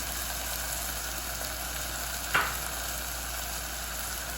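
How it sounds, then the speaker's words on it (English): Pasta sauce with crushed red chili, hot sauce, oregano, salt and black pepper sizzles steadily in a pan, a continuous close frying hiss with one brief scrape of stirring partway through. "Now stir this and then I'll tell you what to do next."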